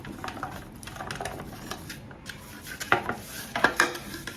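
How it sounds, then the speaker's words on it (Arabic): Butter is greased around a cake mould, a soft rubbing and smearing with light clinks and scrapes of metal, quiet and close, with a couple of sharper taps near the end. "ناخذ المول اللي غادي ندير فيه الكيك ندهنو بالزبده"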